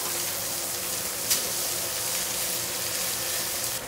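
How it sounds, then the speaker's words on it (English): Dry-aged prime beef steaks sear in a hot pan, giving a steady, even sizzle that hisses on without pause and with no voices over it. "I'm going to put these quickly to the side here. Let them sear on the sides."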